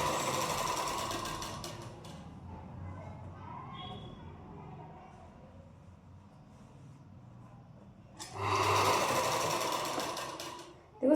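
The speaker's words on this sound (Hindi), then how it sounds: "देखो मैं दूसरी बार भी ऊपर ऊपर जो हमने सिलाई लगा थी उसके ऊपर ही लगा दो आप सिलाई" A sewing machine stitches a deep-neck princess-cut blouse in two loud, close bursts of rapid rattling separated by a quieter pause, with someone talking.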